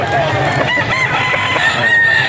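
A Henny gamecock rooster crows loudly and close, one long sustained crow over a busy background of other fowl and noise at a bird market.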